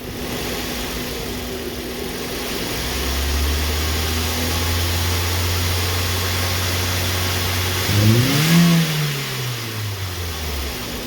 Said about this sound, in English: I'm just gonna go ahead and give it some gas.